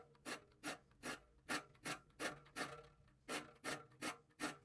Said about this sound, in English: So I have to file a tooth and then skip a tooth